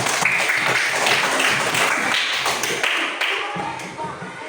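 A classroom of students claps together in a dense, lively burst of applause that gradually tapers off over a few seconds.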